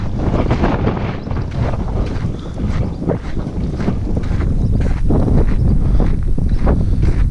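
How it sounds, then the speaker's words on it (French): Strong wind buffets the microphone at a château in Indre-et-Loire, France, with loud, continuous rumbling gusts that swell and ease without a break. "Il y a trop de vent."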